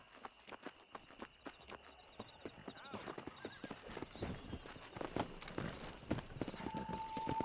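Hooves clip-clop in a fast, steady gallop through Red Dead Redemption's frontier, the rhythmic beats loud and close, joined by occasional whinnies, while voices talk over the ride.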